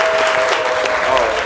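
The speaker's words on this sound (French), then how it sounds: "applaudissements pour vous les gars" Sustained audience applause following a performance on a televised show, a dense steady wash of clapping with a thin tonal line and a voice faintly underneath.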